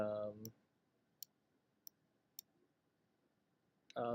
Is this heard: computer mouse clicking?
yes